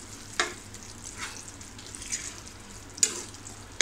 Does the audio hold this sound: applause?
no